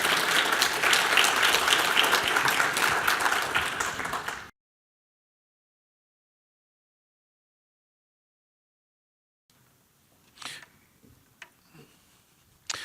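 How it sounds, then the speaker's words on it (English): Audience applause after a software conference talk, loud dense clapping for about four seconds that cuts abruptly to silence, followed later by a few faint isolated knocks and handling sounds. "Round of applause, please."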